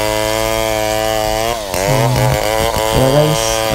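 A chainsaw whines at a high steady pitch, then bogs down and surges in rhythmic bursts as it bites into wood, cutting a 1x7x10 plank, close and loud.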